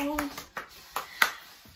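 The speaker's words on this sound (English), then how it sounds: "Give yourselves a round of applause." Children clap a few times, briefly and loosely, after a sing-along in a kids' yoga session; there are four or five separate soft claps at uneven intervals and a voice is heard.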